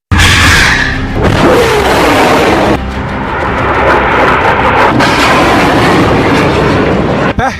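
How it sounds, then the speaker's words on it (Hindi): Hamas rockets launching one after another: loud, close roaring blasts with abrupt starts, each rushing into a sustained rumble that overlaps the next, with no voices. "फिर फायर हुआ दूसरा रॉकेट, इसके बाद लॉन्च हुआ तीसरा रॉकेट"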